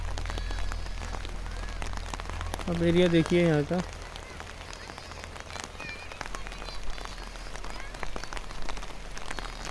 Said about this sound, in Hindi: अभी बारिश स्टार्ट हो चुकी है